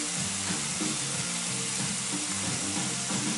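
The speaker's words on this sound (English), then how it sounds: "Almost like frying bacon." Thin slices of prosciutto frying in a pan, a steady, close, crackling sizzle that continues without pause.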